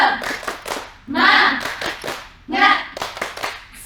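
A class of children claps a rhythmic spirit-clap pattern, with quick tap bursts and several louder full-hand claps, joined by short chanted voices.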